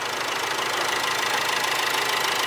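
A BMW 335 engine runs quietly, giving a steady, even, close hum with no change in pitch or level and no voices.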